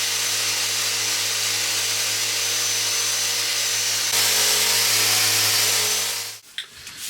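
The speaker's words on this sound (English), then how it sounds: "I've given this a sand with 240 grit, only a clean up sand really" Steady, loud rasping of wood being sanded with 240 grit sandpaper on a 1920s hallstand, continuous and close for several seconds before stopping abruptly.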